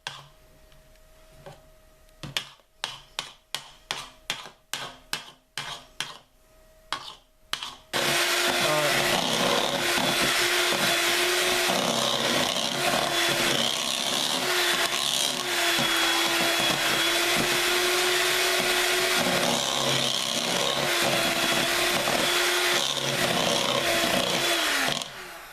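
An electric hand mixer whips cream into butter, first in short stuttering bursts, then running loud and continuous with a strained, grinding motor whine as the mixture stiffens.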